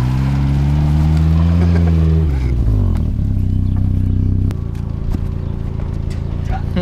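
A car engine revs hard up close, its pitch sliding down and then settling into a steady, loud drone.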